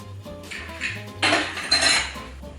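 A metal lid clanks onto a pot of boba boiling over medium heat. A loud close clatter and scrape of metal on metal sits over a low, steady hum.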